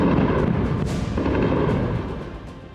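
Explosions from Israeli bombing and missile strikes on Iran, heard as a loud, heavy booming rumble with a sharp crack near the start, decaying and fading over a few seconds.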